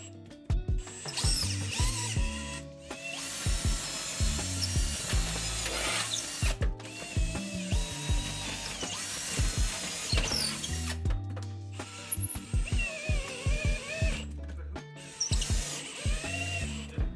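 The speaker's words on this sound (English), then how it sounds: "re-drill 4 new holes and put the bracket back up" A power drill bores holes into a wall for a TV mounting bracket, with repeated bursts of whirring and ratcheting broken by short pauses, close and moderately loud.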